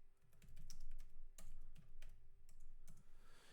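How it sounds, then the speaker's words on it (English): Quiet, rapid typing on a computer keyboard, a steady patter of soft key clicks with a few slightly louder taps, heard alone and close up. "And I'll type lower text."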